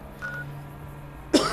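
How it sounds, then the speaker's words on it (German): A single short cough from a person breaks in sharply near the end after a quiet stretch, close and fairly loud. "So schön, dass ich erstmal husten muss."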